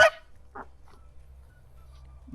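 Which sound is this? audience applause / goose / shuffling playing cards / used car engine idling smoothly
goose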